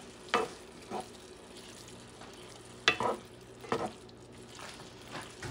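Ground meat cooks in a pan for a mashed-potato casserole, a soft sizzle broken by several scraping stirring strokes at irregular intervals, close and quiet with no talk.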